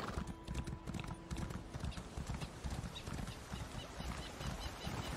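Horse hooves clip-clopping at a steady trot while riding in The Elder Scrolls Online, a quiet, regular rhythm of close hoofbeats running throughout.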